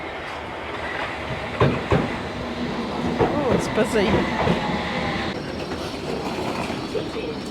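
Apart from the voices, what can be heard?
train arriving at platform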